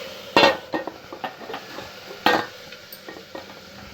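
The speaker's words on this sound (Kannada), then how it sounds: "ಕಡಲೆಬೇಳೆ ಹಾಕೋತಾ ಇದ್ದೀನಿ ಇದಕ್ಕೆ ಒಗ್ಗರಣೆಗೆ" Soaked chana dal drops into hot tempering oil for a masala sambar and crackles steadily, with metal stirring scrapes and clinks against the pan close by.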